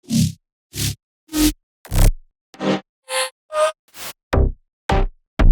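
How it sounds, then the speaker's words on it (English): A run of about eleven short, punchy layered synth stabs from a bass house drop, separated by brief silences, each hit bright with a heavy low end, loud and up front. "don't forget about the stab, the main stab of the drop"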